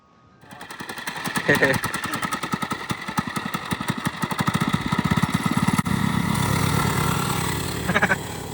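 A small engine on an eight-year-old's motorbike fitted with training wheels starts up and runs with a rapid, rattling, buzzy putter, close and steady, the pitch shifting slightly as it revs.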